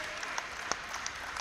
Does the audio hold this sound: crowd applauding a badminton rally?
yes